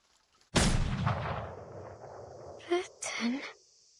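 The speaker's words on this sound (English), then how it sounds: "The bullet flies from the barrel, trailing a long white streak through the air." Gunshot in the video game Reverse 1999: one loud, sharp blast that decays over about two seconds, followed by brief game voice sounds.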